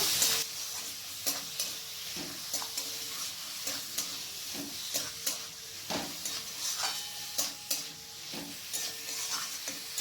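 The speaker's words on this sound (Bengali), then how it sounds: "এরপর পেঁয়াজের সাথে মাংসটাকে ভালো করে মিক্স করে নেব।" About 250 grams of mutton pieces tossed with onions and fried in a pan: a constant sizzle and hiss punctuated by frequent scraping, clattering stirs, close and steady, with no speech.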